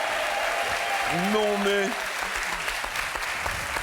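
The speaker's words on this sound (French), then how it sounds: "On peut les applaudir quand même." A studio audience on a French television game show applauds in a steady, even wash of clapping throughout, with a voice briefly speaking over it in the middle.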